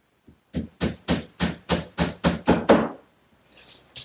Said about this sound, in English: I'll just set it down and put a couple nails along the top edge